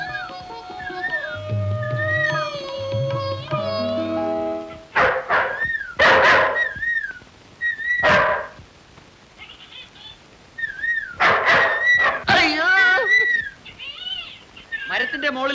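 A dog barks in an old black-and-white Malayalam film scene, a burst of loud, close barks in irregular clusters mixed with yips, while people talk before and between them.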